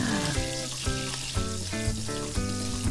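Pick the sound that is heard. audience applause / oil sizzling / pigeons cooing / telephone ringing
oil sizzling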